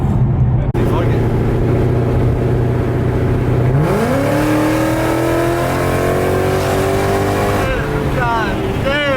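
A supercharged 2015 Ford Mustang GT with a VMP blower revs loud and close, its engine note climbing steadily through a hard acceleration run, with people talking faintly over the roar.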